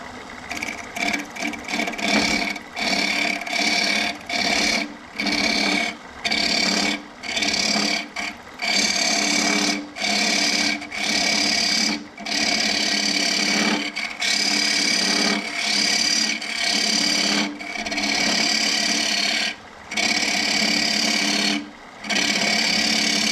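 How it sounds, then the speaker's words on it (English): A hollowing tool cuts into macacuba wood spinning on a lathe, a loud, harsh, buzzing scrape in repeated bursts broken by brief pauses as the tool is pulled back and re-engaged. "clean out everything that's in the way of me getting my hollowing tool all the way around the inside of this"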